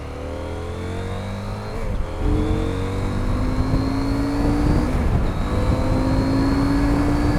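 A 2022 CF Moto 800MT Sport motorcycle engine revs up loudly and close, pitch climbing through gear after gear with brief dips at each shift.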